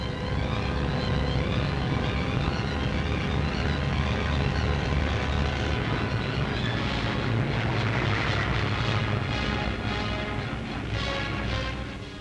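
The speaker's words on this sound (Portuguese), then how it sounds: "Novas esquadrilhas da aviação alemã levantando voo dos aeródromos da Crimeia." Loud, steady roar of German military aircraft engines taking off from airfields in Crimea, droning continuously, with a propeller whine rising toward the end.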